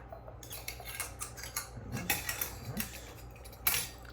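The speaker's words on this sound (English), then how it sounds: "I'm just screwing these in" Metal parts of a shower grab bar being screwed together by hand: close, busy clicking, ticking and light metallic rattles in quick irregular bursts, with one sharper clack near the end.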